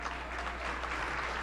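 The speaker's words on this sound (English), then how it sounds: "give a big round of applause to my good friend" An audience at an arts gala applauds, a steady, fairly faint patter of many hands clapping for just over a second with no voices over it.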